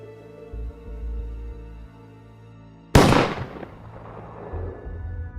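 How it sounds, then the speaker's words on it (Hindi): A single sharp gunshot cracks out loudly after a few seconds of low rumbling background, its echo decaying over the following second. "मैंने गोली चलने की आवाज सुनी।"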